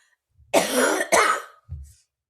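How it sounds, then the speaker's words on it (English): Two harsh, close coughs in quick succession, followed by a short low throat sound, with no talking. "what's this cough?"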